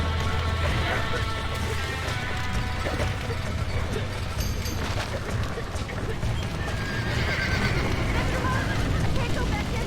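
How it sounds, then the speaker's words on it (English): A horse neighs and whinnies with hooves clopping in the Red Dead Redemption video game, set amid a dense, loud mix of game noise, clatter and shouted voices throughout. "Get that horse back! Get it moving! Back that dumb horse!"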